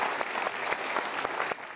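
An audience claps in a steady burst of applause, close and even throughout, with no voices over it.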